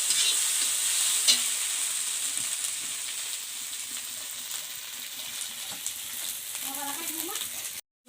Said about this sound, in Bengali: এই মশলাগুলো ভালোভাবে ভেজে নেব। কাঁচা গন্ধটা জ্বালা অবধি আমি নাড়াচাড়া করে থাকবো।